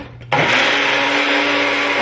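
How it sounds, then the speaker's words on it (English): A Magic Bullet blender switches on with a sharp start after a quiet moment and runs loud and steady, whirring through protein powder and Jello mix up close. "So we're gonna put it in the blender"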